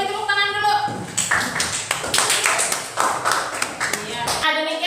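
A classroom claps for a group that has finished its presentation, with irregular, moderately loud claps between spoken voices at the start and end.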